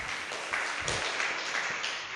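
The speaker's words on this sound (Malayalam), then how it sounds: "ഒന്ന് കൈയടിച്ച് കൊടുത്തിയേ" An audience at a Malayalam Catholic religious talk bursts into applause, a dense, continuous wash of clapping hands with no talking.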